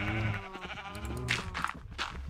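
A sheep in Minecraft gives a wavering bleat at the start, followed by a few shorter bleats and soft game sounds, clear and close with no talking.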